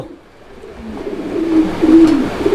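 Pigeons being picked up by hand give soft, low cooing that swells toward the end, with light rustling as they are held close.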